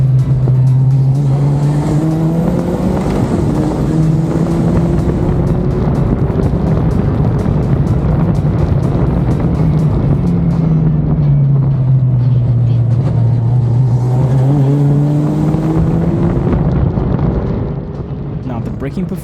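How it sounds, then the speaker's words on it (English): A race car engine drones loudly throughout, pitch rising and falling as it accelerates and slows, with heavy wind buffeting and a voice talking underneath. "I love the sound of this car."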